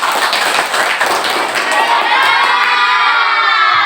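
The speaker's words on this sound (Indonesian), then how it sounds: "untuk kelompok 1 kasih tepuk tangan dulu" Classroom of students bursts into loud clapping and excited shouting and cheering for the first discussion group, a dense, close, continuous roar of young voices and hands.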